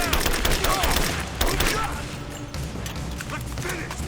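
Sustained gunfire rattles through a firefight in the video game Rise of the Tomb Raider, dense bursts of shots and impacts filling the whole stretch with brief louder volleys.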